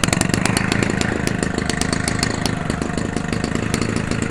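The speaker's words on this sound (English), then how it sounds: "It idles at 1550 RPM forever and get 8000 RPM with this Master Aircrew Classic Series 18-6 propeller" Homelite 30cc Racer X model engine idling steadily with an 18-6 propeller fitted, a continuous loud two-stroke putter with rapid even firing pulses close by and no talk.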